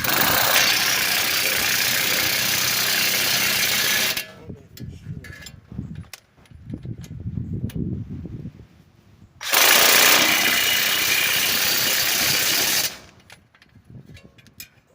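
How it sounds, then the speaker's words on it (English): An impact gun tightens the bolts and nuts on a Toyota Corolla front strut in two loud, harsh rattling bursts of about four and three seconds, with quieter shop noise and movement between them. "wrench and our gun, and we're going to tighten up both of these bolts and nuts"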